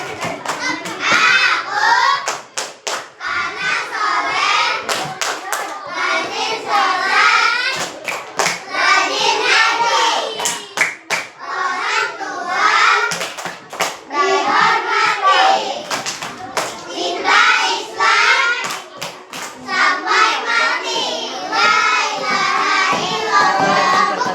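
Children in a classroom clap their hands along in rhythm while young voices chant and shout over it, the rapid claps dense and steady throughout at close range.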